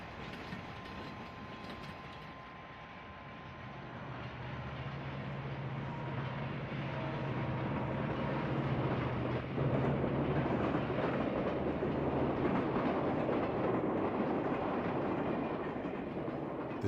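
An SD7 diesel locomotive on the Northwestern Pacific railroad rolls past with a steady, building rumble and wheel noise. The sound grows louder over many seconds, with a low engine drone in the middle stretch and no talking.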